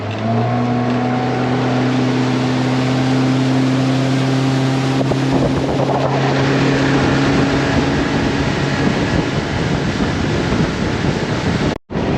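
A motorboat engine drones steadily and loudly, rising in pitch as it speeds up, with heavy wind buffeting the microphone and no one talking, out on the water in Abaco, Bahamas.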